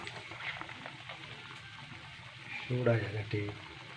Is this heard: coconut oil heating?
yes